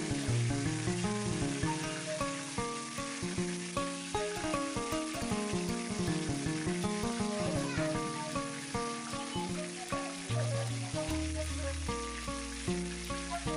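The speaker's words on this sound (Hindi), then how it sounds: "एक साइड से फ्राई हो गया है फ्रेंड्स। अब इसे हम पलट कर दूसरे साइड फ्राई करेंगे।" Pieces of chital fish (clown knifefish) frying in a pan, a dense steady crackling sizzle heard close up and alone, with a brief clatter near the end.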